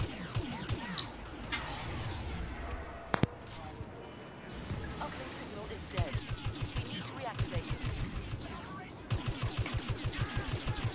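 Blaster gunfire in a Star Wars Battlefront beta online match pops in quick, rhythmic bursts that grow denser toward the end, mixed with battlefield effects while a player talks.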